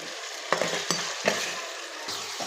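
Masala with salt and three lengthwise-slit green chilies stirred and fried in a pot, a dense close sizzle punctuated by several distinct scraping stirs of the spoon at irregular intervals.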